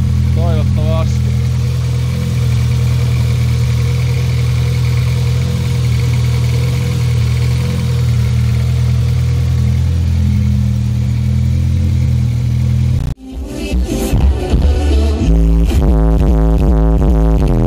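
A car engine idles steadily with a low, even hum during a charging-voltage test with LTO battery cells and a diode mod, and a person speaks over it; the sound cuts abruptly toward the end, replaced by different, choppy noise.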